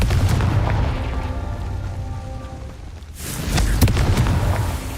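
A Confringo blasting spell from the video game Hogwarts Legacy goes off with loud booming blasts, a dense rumbling burst followed by a sharp crack and a second heavy explosion, with no speech.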